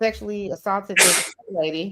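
One sharp, hissy sneeze bursts out in the middle of a person's speech, loud and close, with talking before and after it.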